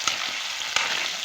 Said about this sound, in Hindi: इसको भूनें ताकि हमारे आलू भी गल जाएं।